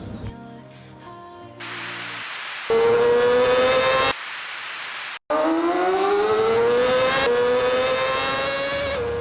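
A Honda CBR650R superbike fitted with an aftermarket exhaust revs in several loud, separate bursts, its pitch climbing and holding, with abrupt cuts and a short silence between takes.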